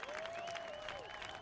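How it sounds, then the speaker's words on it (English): A recorded applause sound effect plays during a live trading stream: a dense, steady patter of clapping with a faint rising whistle tone over it, held at an even level from start to end. "Even Mute giving you an applause there"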